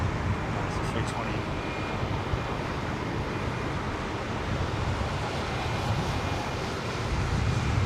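An Airbus A320 airliner roars steadily at London Heathrow in wet weather, a broad, sustained whoosh of jet noise heard from a middle distance. Wind buffets the microphone throughout, and there is no break in the sound.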